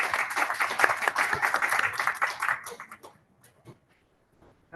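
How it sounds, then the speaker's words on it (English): An audience claps at a town hall meeting about a pending Safeway closure. Steady applause lasts about three seconds, then fades into a few scattered claps and quiet. "give him a round of applause"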